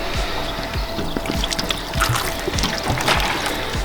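Fountain water is poured and splashes steadily onto car paint treated with Bass Motor liquid wax, running off in a continuous trickle and patter without any speech.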